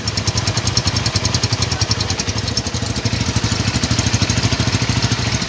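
A Honda Tiger Revo motorcycle from 2008 idles steadily with a loud, throbbing exhaust pulse close by, the rapid even beat continuing without pause.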